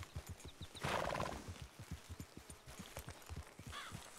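A horse neighs in a long, loud whinny amid steady clip-clop of hooves on the move, with faint shorter calls before and after.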